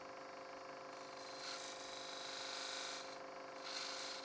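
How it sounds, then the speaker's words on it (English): A skew chisel works gently as a scraper in the inside corner of a small turned wooden box, giving a faint, steady scraping hiss with soft swells over a constant hum of a running lathe. "I can use my skew chisel"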